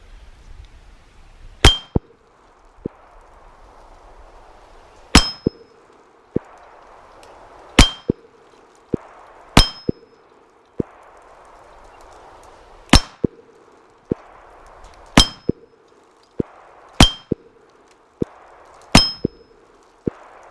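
Taurus Spectrum .380 ACP rounds strike an AR500 steel target, each hit a sharp metallic clang ringing out briefly at a distance, about eight spaced shots with quieter clinks between them over low outdoor background noise.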